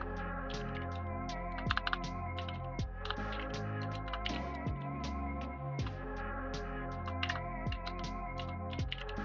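Keys clatter on a computer keyboard as rapid, light clicks throughout a live coding session, sitting over a steady tonal background hum.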